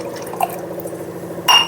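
Water poured onto chopped carrot in a blender jar to grind it into a smooth paste for carrot soup: a close, steady trickle ends in a brighter splash.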